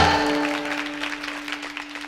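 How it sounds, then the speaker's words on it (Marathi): An audience claps along during a Marathi kirtan in Dhorewadi, soft, fairly quick rhythmic clapping heard at a distance beneath a steady sustained tone. "धोऱ्यात टाळी वाजवा, धोऱ्यात धोऱ्यात धोऱ्यात"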